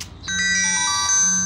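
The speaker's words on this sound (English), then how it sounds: "take your phone. I think there's a message." A phone message notification tone chimes in a Nigerian movie scene, a bright, sustained electronic melody with ringing overtones lasting over a second, heard alone.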